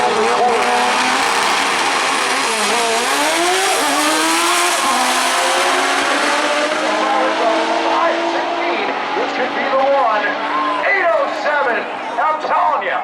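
A drag racing car makes a full-throttle pass at Maryland International Raceway, engine roaring loud and sustained as it climbs through the gears, with an announcer talking over it throughout.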